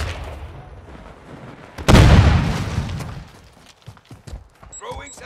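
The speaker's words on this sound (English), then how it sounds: "Throwing flash grenade!" A flash grenade detonating in Call of Duty: Modern Warfare II multiplayer, one sudden loud bang followed by a ringing, decaying wash, then scattered smaller pops and clicks; voices are heard around it.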